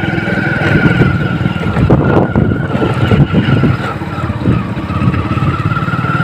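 A motorbike engine runs loud and close as the bike rides off along a village road near Belthra Road, Ballia, a steady rough drone with gear and throttle changes and no talk.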